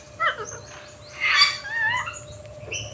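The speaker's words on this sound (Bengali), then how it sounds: "এটা মেবি ম্যাকাও" A macaw at Gazipur Safari Park gives a few harsh, scratchy calls, moderately near, over a low background hum.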